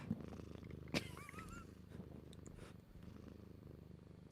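A calm domestic cat purrs softly and continuously up close, a low rumbling drone with a faint high chirp and small noises over it, quiet throughout.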